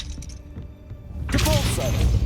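A Confringo blasting spell goes off in Hogwarts Legacy, a sudden loud burst with a crackling, shattering tail that follows a quieter stretch of ambient game sound and fades slowly.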